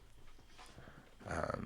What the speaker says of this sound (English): My dog's going crazy.